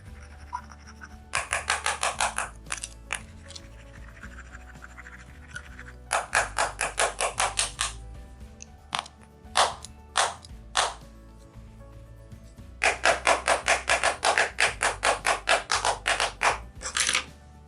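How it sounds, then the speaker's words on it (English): Nail scissors scratch across an iPhone X screen protector in bursts of fast, close, dry tapping and scraping, with three longer flurries separated by scattered single scrapes and pauses, and no talk. "Let's just go crazy on the screen and see if we can break it."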